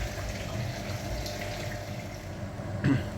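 Water flushing through the heater core of a VW Passat B7 2.0 TDI during a cooling-system flush, a steady close rushing flow with a brief louder splash near the end, no voices.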